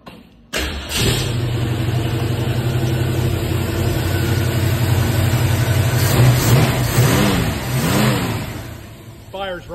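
A 1965 Ford Mustang's cold engine cranks and fires, then idles roughly and revs up several times, loud and close, with brief talk over the running engine.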